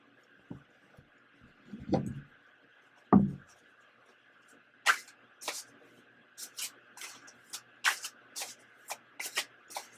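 Shadow and Light Oracle cards are shuffled, a few soft thumps followed by a quick run of crisp riffling card flicks, fairly quiet against a faint steady hum.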